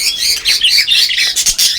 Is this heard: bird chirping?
yes